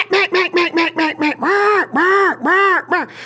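A duck call blows hen cadences. A run of short, rhythmic quacks is followed by three longer, drawn-out quacks, all loud and close, with no talking over them.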